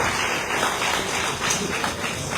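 A crowd at a Key to the City awards dinner in Monrovia gives an honoree another round of applause, a steady, dense wash of clapping heard throughout.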